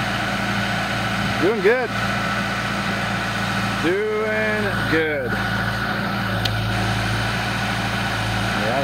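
A tractor engine idles and chugs steadily while digging, a constant low drone beneath a man's speech and a couple of bleating sheep.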